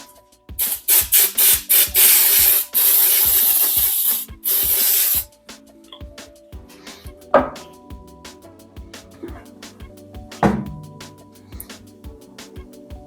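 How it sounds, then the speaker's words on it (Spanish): Cooking oil hisses from a spray can in several short bursts, then a longer spray, near and loud, followed by quieter clinks and handling sounds of preparing vegetable soup in a Ninja Foodi pot. "Le voy a rociar un poco de aceite en spray."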